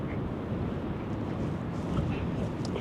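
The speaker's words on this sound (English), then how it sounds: "The wind is just blowing." Strong wind roars across a cold beach in Astoria, Oregon, buffeting the microphone in a constant low rumble with surf mixed in.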